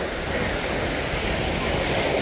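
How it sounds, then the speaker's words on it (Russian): Wind-stirred sea waves at a beach in Alanya, Turkey, make a steady, dense rush of surf, loud and continuous, with wind buffeting the microphone throughout. "Ветерок начался, и началась волна."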